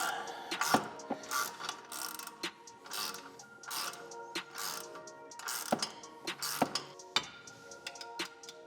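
A ratchet tightens a rear upper control arm bolt on a Toyota GR86/Subaru BRZ/FR-S, producing repeated close, sharp metallic clicking bursts in quick rhythmic runs with brief pauses, no talking.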